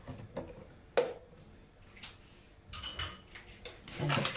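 Banana loaf batter with a tablespoon of oil is stirred in a bowl, the utensil scraping and clinking against the sides in irregular strokes, close and fairly quiet.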